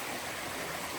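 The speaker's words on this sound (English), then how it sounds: "it looks like I got a little water crossing here, which will be nice" A stream rushes at a water crossing on the Appalachian Trail, a steady broadband wash of flowing water heard close and continuous with no voices.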